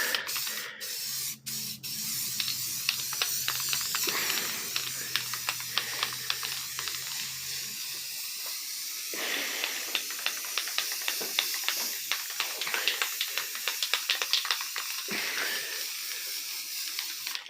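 Aerosol spray paint bursts hissing onto a vintage metal step stool, a string of short sprays with brief pauses between them, close and steady throughout.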